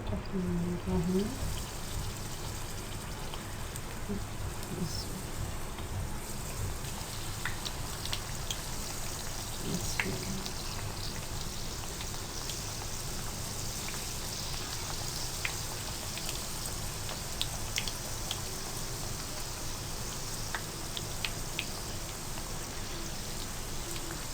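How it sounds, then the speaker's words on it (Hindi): Chicken cheese patties fry in hot oil on a lowered flame, giving a steady, dense sizzle like rain that carries on throughout, with a voice speaking briefly over it. "तेज़ मीडियम हीट पे ऑयल को गर्म करें। इसमें बबल्स बन रहे हैं तो थोड़ा सा फ्लेम लो कर दें पैटीज को डालते हुए।"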